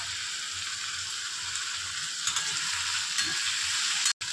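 Green chillies sizzle in a hot pan for pasta, a continuous close crackle with light stirring scrapes and a short cutoff near the end.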